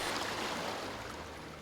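High, fast-breaking ocean waves on a beach, a steady roaring wash of surf that stays loud and close for the whole moment, with no voices over it.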